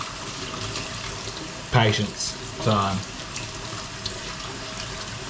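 Tap water running steadily while an aquarium filter sponge from a 3 ft African cichlid tank is rinsed, with a few louder splashes and a brief spoken remark over it.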